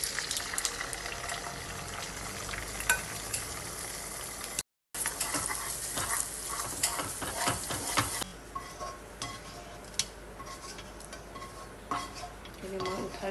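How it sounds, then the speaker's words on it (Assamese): Two eggs frying in ghee in a pan, a dense, continuous crackling sizzle heard close up, briefly cut to silence midway and then continuing somewhat softer with scattered pops and scrapes. "ইয়াতে দিম এতিয়া মই ঘি। এতিয়া মই 2টা কণী লৈছোঁ ইয়াতে।"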